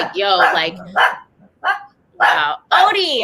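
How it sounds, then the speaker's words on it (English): A pet dog barks a few short times close by, interleaved with someone speaking during an indoor roundtable discussion. "sorry, that's my dog."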